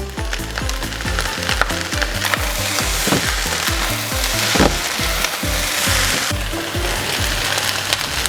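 Bean sprouts hitting a hot cast iron skillet for pork fried rice, a loud, dense crackling sizzle throughout with rapid sputtering pops, close up and without speech.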